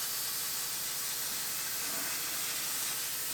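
A dense, continuous hiss of spray coating the tops of the wheel arches on a GMC Yukon with rust-proofing, loud and steady from start to finish with no gaps.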